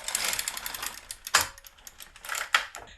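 A GK 370 knitting machine carriage knitting one row, giving a rattling mechanical whir punctuated by a few sharp, close clacks, with no voices.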